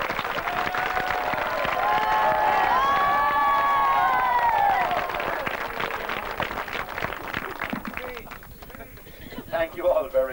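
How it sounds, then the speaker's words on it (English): A gathering of parishioners, priests and a bishop at Butlersbridge applauds Father Aidan, with clapping and cheering voices swelling then easing off before someone starts speaking. "So I wanted to give him a big round of applause now"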